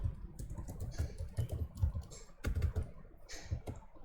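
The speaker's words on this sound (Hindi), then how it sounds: "जैसे मैं यही कमांड दोबारा लिखता हूँ" Quiet, steady typing on a computer keyboard as a command is entered, a run of quick soft key clicks with brief pauses, alone without talk.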